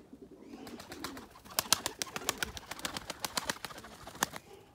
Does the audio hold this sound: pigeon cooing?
yes